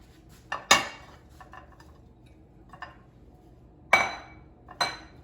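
Glass Pyrex baking dishes clink and knock against each other and a hard kitchen counter as they are set down and swapped, a few sharp separate impacts with softer handling sounds between and no talking.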